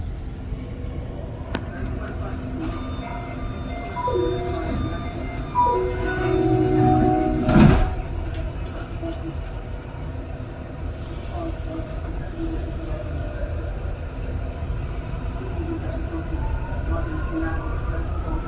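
A REM light metro train rides between Brossard and Central stations in Montreal, rolling steadily with a low rumble and rail noise, a brief squeal-like burst midway, and faint talk underneath.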